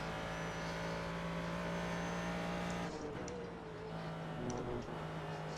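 Prototype race car engine in a racing video game drones steadily, briefly easing off around mid-corner before picking back up, a continuous mid-level tone with light background chatter.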